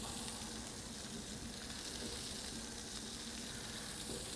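Veal, zucchini and spring onions sizzling on a grill, a faint but unbroken hiss and crackle of fat cooking, even in level throughout with no voices.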